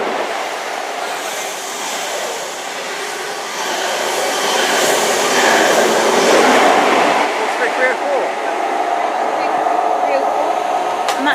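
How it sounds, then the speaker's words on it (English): A Great Western Railway HST bound for Newquay from London Paddington rumbles past at Dawlish, a broad steady roar that swells midway and stays loud, with someone talking faintly under it. "we have a Great Western Railway HST to Newquay from London Paddington"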